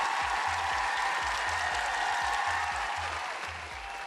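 Applause for an audience on a Chilean science show, a broad, even clapping wash over a rhythmic low thumping pulse, gradually tapering toward the end.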